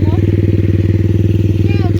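A cross motorcycle idles steadily with a rapid, even engine pulse on a road, a dirt bike close by and loud, while people talk over it.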